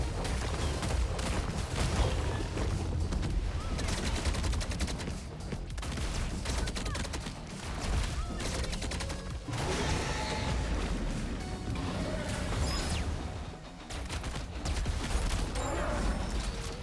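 Gunfire from the time-travelling bounty hunter action roguelite SlashZer, dense and continuous bursts of shooting with crashes and impacts, loud and sustained throughout with no speech.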